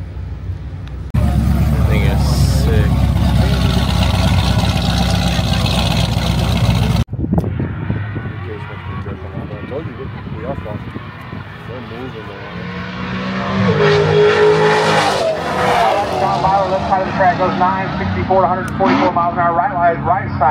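A Nissan GT-R at the STL vs KC Street Car Takeover 2024 meet gives a loud, close engine roar for several seconds, then fades under crowd chatter, with people talking nearby and other cars rumbling in the background.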